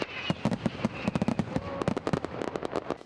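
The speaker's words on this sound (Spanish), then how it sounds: "la jornada termine con una sesión de fuegos artificiales" Festival fireworks display bursting in rapid, irregular succession: sharp bangs and crackling pops follow one another closely for the whole stretch, fairly loud with no voices.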